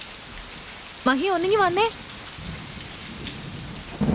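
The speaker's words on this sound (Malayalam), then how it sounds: "എന്തിനാ പുറത്ത് മഴ നനഞ്ഞു നിൽക്കുന്നത്?" Heavy night rain pours steadily onto surfaces outside a house, with low thunder rumbling beneath, while a person calls out briefly over the downpour.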